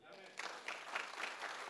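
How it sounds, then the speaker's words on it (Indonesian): A church congregation claps during a sermon, a short moderate round of applause with a few sharper accents, fairly faint and set back in the room. "Tepuk tangan dulu."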